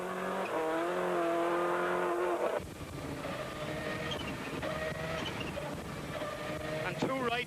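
A rally car on the Ravens Rock Rally stage with a slipping clutch, its engine droning in rising and falling pitch and then settling into a rougher, busier roar, with a voice reading pace notes over it.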